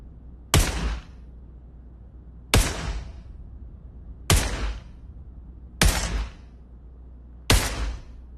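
Five evenly spaced heavy gunshots from WW2 rifles at a shooting range in the VR game Pavlov, each a loud sharp crack with a short decaying tail, separated by quiet pauses.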